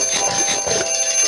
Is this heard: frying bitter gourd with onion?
no